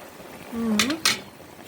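A lid set back onto a cooking pot of basma, a stewed meat and vegetable dish: two quick metallic clinks about a quarter second apart, fairly close, over a quiet kitchen background.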